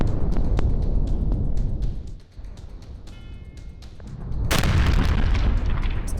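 A gas tanker explodes on a busy road after crashing into a divider: deep, loud booming rumble with sharp crackling bursts, dipping briefly before a second powerful blast surges back in.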